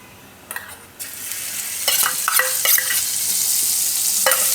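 Butter melts and sizzles in a hot kadai as the base for a bottle-gourd kofta gravy: a steady, close frying hiss that builds and holds, broken by a few metallic stirring clinks.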